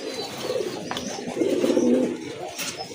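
A pair of large, pure white Parbin pigeons coo in soft, repeated low murmurs that swell in the middle and stay close and moderately loud, with no talking.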